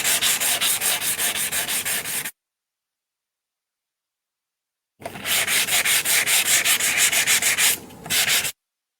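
Paper buffed with a mild sanding block makes rapid, rhythmic rasping strokes in two close, loud bursts separated by silence.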